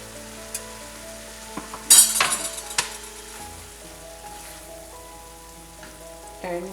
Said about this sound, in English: And now we'll mix the bread pieces that we have chopped before.